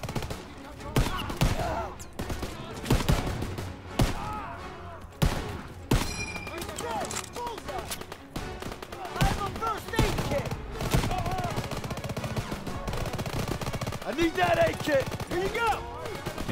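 Gunfire in a World War II battle in the video game Call of Duty WWII: rapid bursts of shots and single cracks sound throughout at close to mid range, under occasional talk.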